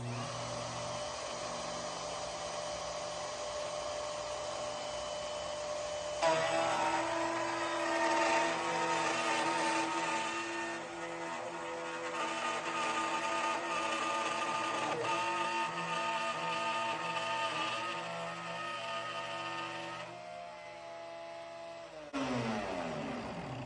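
A SKIL router spins up and cuts through wood, a steady loud machine whine with a sharper, busier cutting tone in the middle, ending as the motor spins down. No one talks over it.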